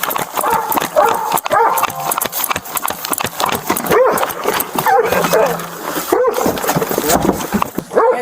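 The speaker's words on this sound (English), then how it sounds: "Inciting the dog to bite." Dog barking amid a chaotic police arrest during an animal welfare check, with barks and yelps mixed into loud overlapping shouting and scuffling voices close by.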